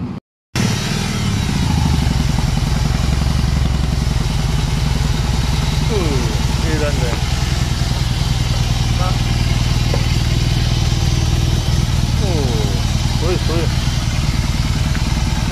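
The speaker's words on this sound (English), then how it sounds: "You see the air cool engine?" Air-cooled BMW motorcycle engine idling at a dealership, a loud, close, steady rumbling chug with a clattery beat throughout, with brief voices heard over it.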